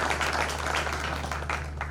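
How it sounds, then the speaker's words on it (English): Crowd applause at a caucus forum inauguration ceremony for new leadership in Juba, a steady wash of many hands clapping throughout, moderately loud with a low constant hum underneath. "And we should clap for him"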